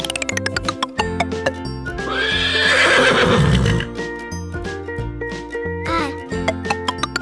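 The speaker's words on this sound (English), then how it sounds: "Horse." A horse whinnies loudly in a long, rising-and-falling neigh over a steady backing melody, followed by a few brief clip-clop-like knocks.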